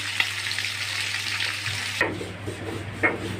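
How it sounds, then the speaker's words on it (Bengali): Fish fries in hot oil in a pan, a close, soft continuous sizzle with a couple of brief crackles and spatters. "এভাবে সবগুলো মাছ আমি একটু ভেজে নেব।"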